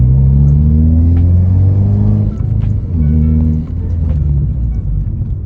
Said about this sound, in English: You get that nice rumble, but once you start making your way up the gears, you start losing power and torque